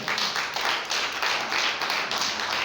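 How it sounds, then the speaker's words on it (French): Audience applauding to welcome a chief of staff at a gathering, a dense, steady burst of close clapping lasting a few seconds. "qui va se mettre debout et on va l'accueillir en acclamant M. le directeur du cabinet, M. Franck"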